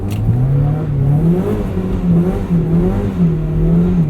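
A Mazda Miata on inexpensive General Altimax tires drives on winter roads, its engine humming up and down in pitch through gear changes, close and steady, with road noise underneath and no talking.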